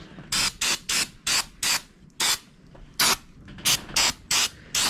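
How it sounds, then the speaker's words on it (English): Cheap ether cleaner sprayed onto a tractor part in freezing cold, a series of about fourteen short, sharp hissing bursts in an uneven rhythm, close and fairly loud with no talk. "it's kind of got this ether, cheap ether here to clean out some of this in here"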